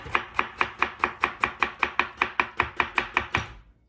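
Steady, evenly spaced knife chops on a cutting board, about fifteen crisp strikes in quick rhythm, close and clear, slicing through a cucumber.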